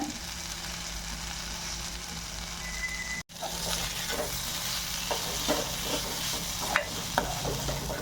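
Pumpkin poriyal with ground coconut and cumin sautés and sizzles steadily in a pan, with soft stirring scrapes and a few small clinks throughout.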